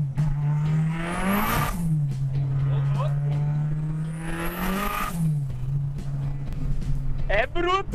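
A home-built Volkswagen Gol turbo car accelerating hard through the gears, engine note rising loudly twice with a whistle at each peak and a drop after the shift, close and dominant.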